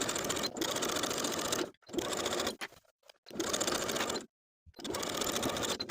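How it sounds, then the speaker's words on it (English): A sewing machine stitches a waistline seam on a puff-sleeve top, with several loud steady bursts of fast whirring separated by brief pauses for backstitching, close and alone. "Now we can sew that waistline seam from center back to center back"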